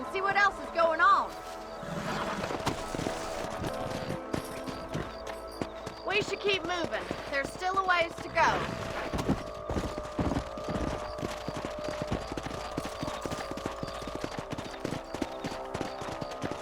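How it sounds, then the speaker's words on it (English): Horses' hooves clip-clop at a steady trot or gallop in the Red Dead Redemption video game on Xbox Series S, running under spoken dialogue and in-game music. "Let's get back on the horses and see what else is going on."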